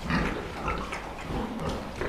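Large, fast-growing pigs grunt and snuffle in a pen, several overlapping low grunts close by in a busy, continuous stream.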